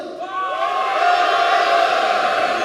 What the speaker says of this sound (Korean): 자 다시 자 남성분들만 함성